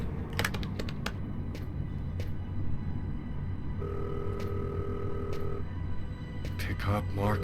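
A phone in Fahrenheit (Indigo Prophecy) gives a steady electronic ring lasting a couple of seconds in the middle, set against quiet room ambience with scattered clicks and a voice talking nearby.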